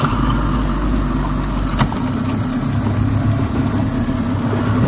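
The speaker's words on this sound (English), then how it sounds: "I think I might start up my engine and show you guys what my boat can do" A boat's outboard engine running on a lake, a loud, steady motor drone with wind buffeting throughout and no clear start-up moment or voices.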